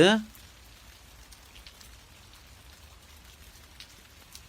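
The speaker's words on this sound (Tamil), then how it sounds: "மழை வருதுடா, உள்ளவா." Steady rain patters down in a scene from a Tamil crime film, a continuous soft hiss after a brief louder burst at the very start, with no voices.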